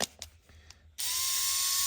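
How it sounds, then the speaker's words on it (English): A cordless drill or impact tool breaking loose wheel nuts on a Ford F-450 dually rear end: a few sharp ratcheting clicks, then a loud sustained whirring burst that holds steady to the end, close by with no talk. "if you've got a drill like this, you don't have to have it. It sure is handy"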